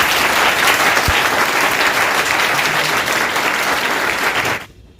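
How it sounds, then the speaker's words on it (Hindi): An audience at a selection celebration event claps loudly and steadily for about four and a half seconds before the applause cuts off abruptly. "एक बार जोरदार तालियां बजाएं।"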